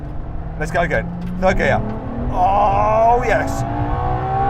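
A Ferrari LaFerrari hybrid hypercar accelerates hard in third gear, its engine pitch rising steadily in a loud, continuous roar heard from the cabin while a voice exclaims over it.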